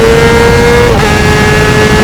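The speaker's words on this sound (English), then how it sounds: "and it already downshifted just like that." Honda CBR600RR motorcycle engine running loud and steady, its droning tone dropping in pitch partway through as it downshifts, with no talking.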